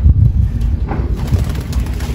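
Pigeons cooing close by, a low, soft, continuous murmur of repeated coos with no voices.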